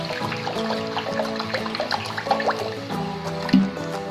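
Water pours into a hot kadai while an Odia-style sijha curry is being cooked on a gas stove, with close, continuous splashing and trickling and a few louder splashes.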